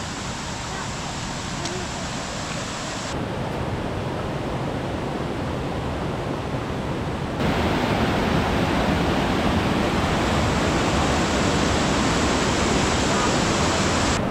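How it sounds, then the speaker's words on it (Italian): Rushing water in the jungle near waterfalls on Koh Phangan, a dense, steady roar that grows louder in stages as it draws nearer, with voices over it. "In mezzo alla giungla, sentiamo il rumore dell'acqua."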